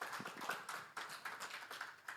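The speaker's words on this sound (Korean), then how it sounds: "8분의 패널 토론자께 여러분 다시 한번 큰 박수 부탁드립니다." Audience applause for eight panel discussants at a 2024 Gangwon climate-change disaster-prevention forum: a steady patter of many hands clapping, continuous and fairly even throughout, moderately loud with no voices.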